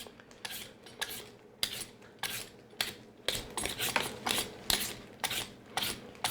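A peeler scraping the tough skin off a butternut squash, a series of crisp, rhythmic rasping strokes repeating roughly every half second, close and clear with no talk.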